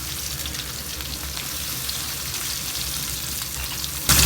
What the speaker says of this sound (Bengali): এবারে মাছ ভেজে নেওয়ার পালা।